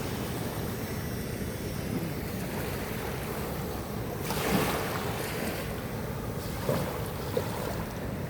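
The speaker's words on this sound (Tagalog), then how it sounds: "Ang laki ng alon, nadidinig nyo, di ba?" Heavy surf roars steadily with a deep rushing wash, swelling louder as a big wave breaks about midway and again near the end.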